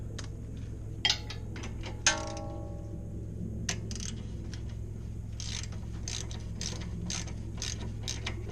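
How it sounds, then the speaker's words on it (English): A socket ratchet backs a bolt out of a Honda Pilot during brake and sway-bar link work: a few sharp clanks, then runs of quick, close clicking strokes over a low steady hum. "Now I'm gonna switch over to my socket so I can be a little bit faster with removing it."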